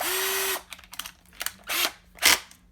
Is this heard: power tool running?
yes